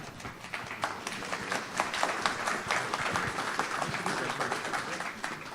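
Audience applause at an awards ceremony, steady dense clapping throughout with some scattered cheering mixed in, moderately loud and sustained.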